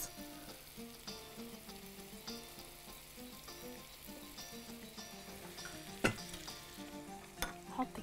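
Chicken shish tawook fries in a pan with a steady, faint sizzle and crackle throughout, plus a couple of sharper pops and clinks near the end.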